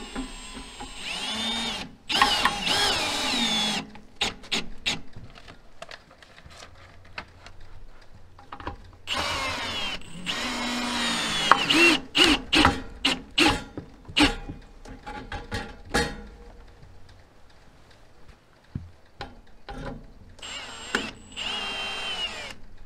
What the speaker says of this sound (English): I'm using metal connector screws because the ones provided weren't very robust, and this can just be run with a driver, hex head driver.